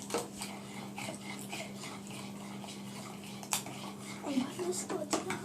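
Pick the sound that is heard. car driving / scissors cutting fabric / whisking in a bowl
whisking in a bowl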